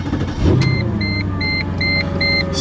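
A manual-swapped Mercedes C55 AMG with a check engine light for a fuel pressure sensor fault starts up close by, its engine catching with a sharp burst and settling into a steady rumbling idle, with rhythmic high chimes repeating over it.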